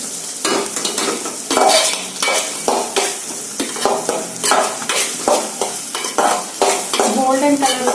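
Ginger garlic paste frying in oil for a Telangana-style chicken curry, with a steady sizzle broken by repeated scraping strokes of a spoon stirring against the pan, close up and with no voices.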